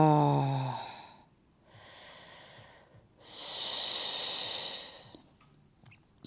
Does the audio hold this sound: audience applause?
no